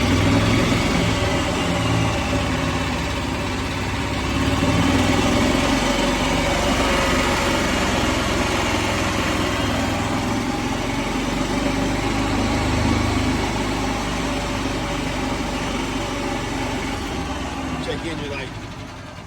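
A 2014 Yamaha Drive golf cart sits idling in neutral, its engine giving a steady low drone that continues throughout with little change in level, with a voice speaking over it.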